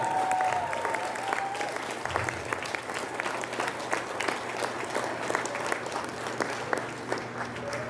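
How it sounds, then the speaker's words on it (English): Audience applause at a grade 12 celebration fills the whole stretch, a dense, steady clapping from a large crowd that stays loud and even throughout. "Can we get another big round of applause for these 19 wonderful people up here?"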